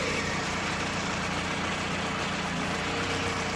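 A Toyota car engine idles steadily up close during repair work on a Camry, a constant low rumbling hum with an even, unbroken drone and no talk over it.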